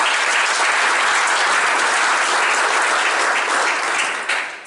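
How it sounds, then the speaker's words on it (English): A warm, loud round of applause from the audience at a Bank of Gaborone business strategy talk, dense continuous clapping that tapers off at the very end. "I think you can give her a warm round of applause."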